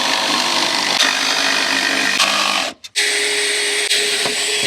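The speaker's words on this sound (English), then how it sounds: "We're going to drill our holes" A power drill bores holes into wooden roof joists, grinding steadily, briefly stopping and restarting midway, loud and close with no talking.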